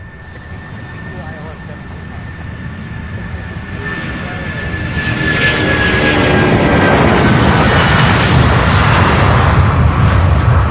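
A Boeing 747 nicknamed the Queen taxis at Louisville airport, its jet engine rumble starting moderate and building into a loud, broad roar as it draws closer.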